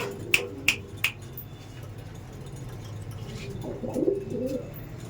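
In a pigeon loft, black diamond pigeons make a few quick, sharp clicks at the start, then a low, throaty coo rises later, nearby and fairly quiet, with no voices.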